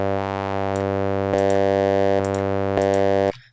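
Sustained synth tone passed through a filter before a distortion insert effect, a bright buzzing drone heard alone and steady, with a few brief clicks or pulses along the way before it cuts off.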